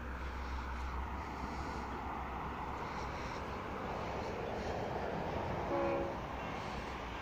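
An old style N class diesel locomotive arrives at South Geelong with a steady heavy engine rumble and broad rolling noise, loud and continuous throughout, with a brief horn-like tone near the end.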